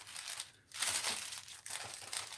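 A wet paper page is folded over, giving soft crinkling and crumpling rustles in a few close, quiet bursts.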